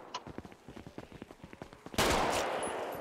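Gunfire in a role-play video game: a rapid burst of close shots, then a loud sustained blast of noise, with no talking.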